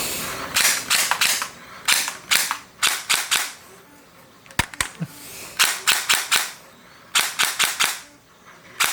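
A 3DG gel blaster firing in short bursts of sharp rapid cracks, several separate volleys with brief pauses between, close and loud, plus a couple of isolated single shots.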